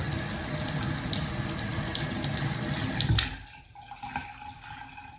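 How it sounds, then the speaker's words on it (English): Water runs steadily from a tap into a bathroom sink with an umbrella drain stopper, then cuts off, leaving a few drips and gurgles as it drains. "And it's got a good drain sound too."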